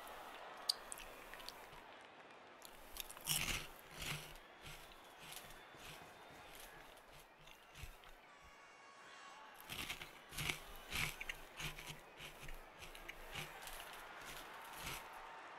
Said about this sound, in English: Sorry about the crunchy, I'm just going to finish eating these really quickly.